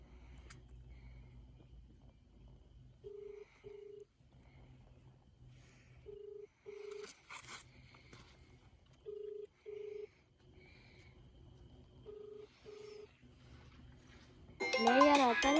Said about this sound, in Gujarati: કાઢો ફોન આવે ઉપાડો ઉપાડો